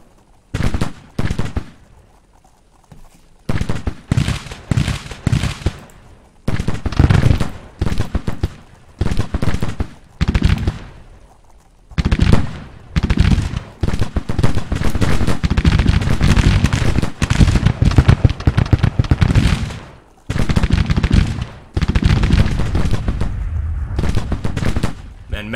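Artillery and massed rifle fire in a Civil War strategy game, loud repeated bursts of gunfire and booming cannon shots in rapid uneven volleys, broken by short pauses, then a long sustained stretch of continuous firing.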